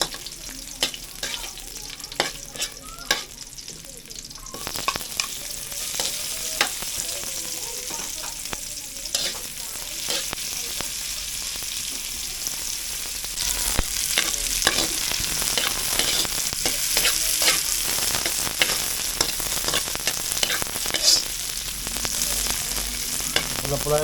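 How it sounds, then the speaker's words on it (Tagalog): Garlic and onion sautéing in a pan for coconut-milk squid, a steady bright sizzle with frequent scraping stirs and clinks of a utensil, close and continuous with no talk. "Pulahin natin konti yung bawang at saka sibuyas"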